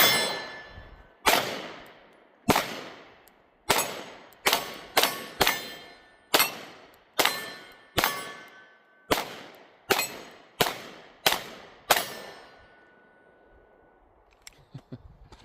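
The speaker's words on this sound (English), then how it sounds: "All right, let's do some more shooting here." Springfield Hellcat Pro Comp pistol fired outdoors in about thirteen sharp, loud shots, spaced roughly a second apart with some quick pairs, each ringing out with a short echoing decay before the fire stops.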